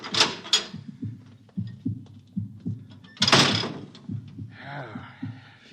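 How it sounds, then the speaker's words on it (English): A heavy bulkhead door on a spaceship-style set in a 1950s science-fiction radio drama opens with a loud hissing, rushing burst, and a second hiss follows amid a low rhythmic throbbing hum of machinery. "I'll open the bulkhead."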